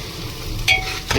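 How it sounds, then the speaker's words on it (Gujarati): Spiced masala rice sizzles as it is tempered in a hot pan, a steady close frying hiss broken by two brief bursts as it is stirred. "અને હવે આપણે વઘાર કરી નાખ્યો છે ભાતનો."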